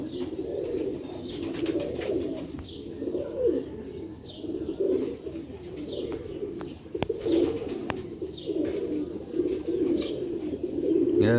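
Rooftop pigeons in Sialkot coo in repeated low throaty phrases, close and continuous, with scattered light flutters and clicks in the background.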